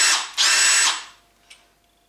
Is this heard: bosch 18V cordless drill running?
yes